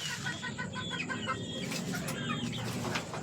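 Flores White stag roosters on a farm clucking and chattering in quick overlapping calls, moderately close over a steady farmyard background.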